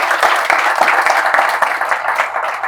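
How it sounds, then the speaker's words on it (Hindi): Enthusiastic applause at a launch event for a financial freedom app, a dense burst of many hands clapping steadily, loud and close for the whole stretch. "जोरदार तालियां सर के लिए।"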